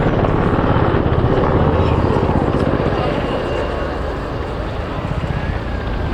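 A display aircraft pulls a minimum-radius turn at the RIAT airshow, its loud, steady engine roar mixed with wind buffeting and light crowd chatter, fading slightly toward the end.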